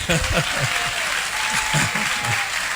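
A church congregation applauding at the close of a sermon, a dense, sustained clapping that fills the room, with voices calling out beneath it.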